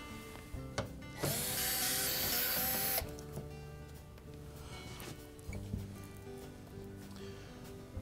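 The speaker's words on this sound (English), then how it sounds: "Now our first step will be to remove the 6 1/4-inch hex head screws that secure the" A power driver whirs loudly for about two seconds, backing out 1/4-inch hex head screws from the back cover of a Frigidaire refrigerator, followed by quieter clicks and handling of loose screws and metal.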